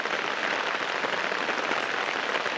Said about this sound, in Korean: 아, 왜 이렇게 비가 와?